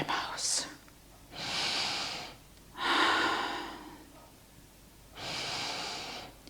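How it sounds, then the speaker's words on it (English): Slow deep breathing during a yoga posture session, with three long, soft, airy breaths in and out through nose and mouth, spaced evenly and close up. "Take a few deep breaths deep down into your chest area, inhaling through the nose and exhaling through the mouth."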